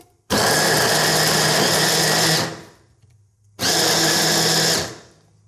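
Electric food chopper with a spinning blade dicing carrots for Cuban black bean soup, running in two loud buzzing bursts, about two seconds then one second, separated by a short pause.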